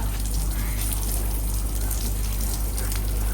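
Water runs during washing in a Pakistani village home: a loud, close, steady gushing rush with no break.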